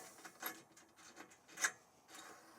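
Bolts sliding into the notched channels of a Prinsu roof rack, faint scraping and rubbing with a few light metallic clicks, one sharper click near the middle, quiet and close.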